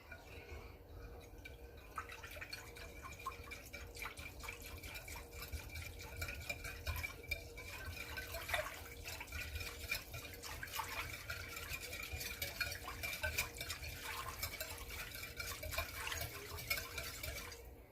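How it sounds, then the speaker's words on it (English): Steady swishing and soft liquid clinking as honey is stirred into water in a bowl until it dissolves, continuous and even, with no talking. "So now we are going to stir to make the honey wait until it dissolves into the water."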